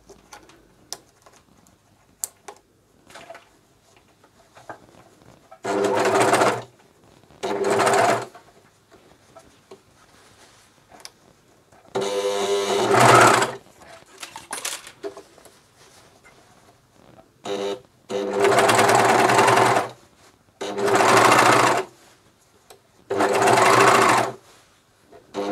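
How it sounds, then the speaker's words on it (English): Juki MCS1500 coverstitch machine sewing over seams on a vest's neckband and armholes: about eight loud, close bursts of rapid stitching separated by quiet pauses and faint handling. "my machine doesn't have a problem going through seams"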